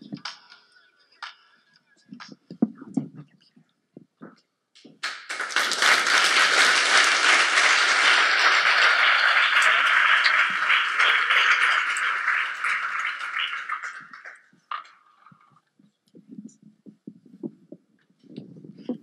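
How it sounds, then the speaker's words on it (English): An audience gives sustained applause after a talk on building a lab in eight days. The clapping swells loudly, holds for about nine seconds and then fades, with brief sounds before and after. "One more round of applause for her."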